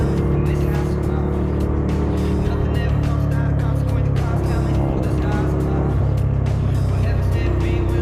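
A Ducati Multistrada motorcycle is ridden through busy traffic, its engine a loud continuous rumble with wind buffeting and bursts of roar, and a voice speaking over it at times.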